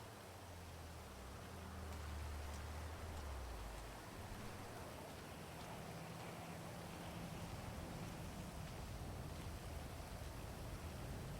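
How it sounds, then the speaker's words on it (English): Steady rain in a GTA roleplay game world, a continuous even hiss of falling water with a low rumble of traffic early on, faint and unbroken throughout. "hate when it rains."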